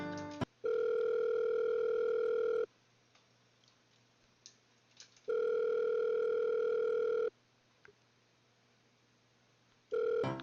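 A phone call rings in the Roblox video game: two long electronic ringing tones, each about two seconds, separated by silent gaps, with a third starting at the end, loud and clean.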